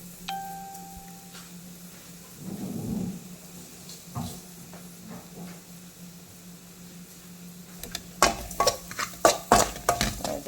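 A spice paste with salt for tender jackfruit (idichakka) thoran is stirred and mixed, starting with faint occasional clinks and ending in a run of quick, close scraping strokes.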